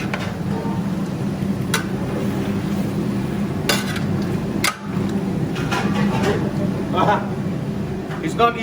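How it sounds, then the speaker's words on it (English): Fifteen kilos of beef stirred in a large pot for a big batch of beef caldereta: steady scraping and shuffling of meat with occasional utensil knocks and clinks against the pot, continuous beneath ongoing talk in a busy kitchen. "It's not easy stirring 15 kilos of beef"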